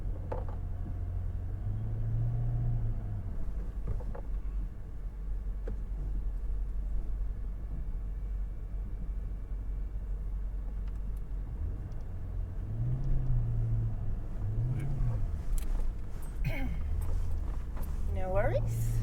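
Car engine rumbling low and steady while towing a caravan over a rough outback track between Mt Dare and Alice Springs, with bumps and creaks over a big hole and people talking throughout.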